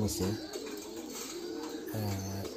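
Fancy pigeons coo softly in low, rolling calls in a loft on a pigeon farm, with faint chatter and background noise around them.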